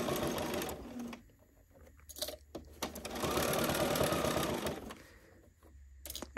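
A sewing machine stitches a ruffle box zip pouch in two sustained runs, separated by brief pauses with soft handling sounds; the motor whirs at a moderate level with no talking.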